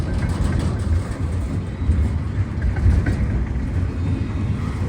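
A single locomotive pulls a long freight train through a snow storm past row houses, giving a steady rumbling roll of wagons and a low engine drone, close and continuous with no voices.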